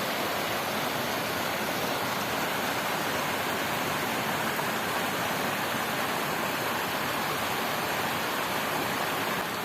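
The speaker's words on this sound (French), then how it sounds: "Donc du coup, il y a énormément d'eau dans le ruisseau. La cascade est magnifique." A waterfall and a stream swollen by heavy rain in the Brocéliande forest rush and roar, a steady broadband wash of water close by with no voices.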